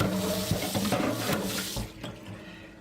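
Tap water runs steadily over a cracked rubber seal from a carpet cleaner, a continuous rinsing splash with small clatters of handling before the flow tapers off.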